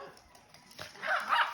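Dogs play fighting, with several short growls and yips building toward the end, fairly close and moderately loud, with no talking over them.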